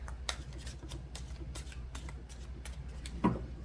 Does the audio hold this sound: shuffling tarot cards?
yes